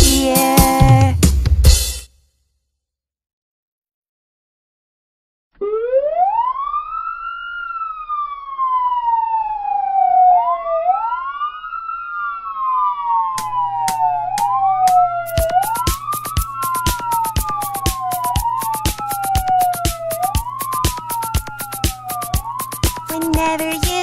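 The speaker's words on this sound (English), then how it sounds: "Whenever you hear this sound, you know an ambulance is around." A loud wailing siren sweeps up and down in long cycles, then switches to faster repeated wails as a steady rhythmic beat joins in.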